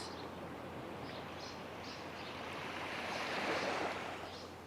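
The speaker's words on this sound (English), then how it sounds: "listening to the waves coming through on my end" Steady wash of surf with a gentle swell building and receding, soft and continuous, with faint chirps drifting over the top.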